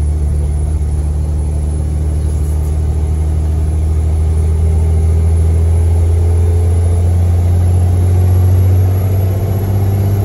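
A Peterbilt 330 truck hauling cattle pulls hard at about three-quarter throttle. Its engine gives a loud, steady low rumble that climbs slowly as speed builds, heard from inside the cab with no voices.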